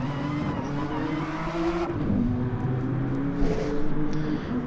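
Nissan touring cars racing at the Nurburgring in a racing video game, engines droning and shifting pitch continuously, with a louder pass near the end.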